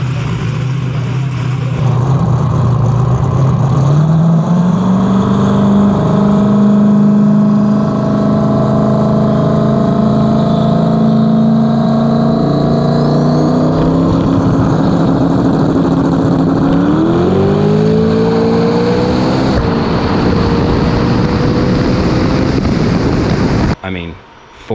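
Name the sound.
turbo LS Foxbody drag car engine revving on the brake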